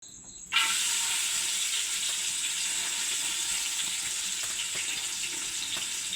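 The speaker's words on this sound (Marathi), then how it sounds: "आई चणा डाळ टाकताय ती फ्राय करून घ्यायची तेलामध्ये" Chana dal frying in hot oil, a steady bright sizzle that bursts on abruptly as the lentils go in and keeps hissing evenly, close and loud, with no talking.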